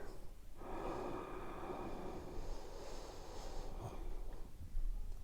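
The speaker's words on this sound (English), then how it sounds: "Let's take a deep breath in." A long, deep breath drawn in through the nose during a guided breathing exercise, steady and close, rising slightly toward the end over a faint background hiss.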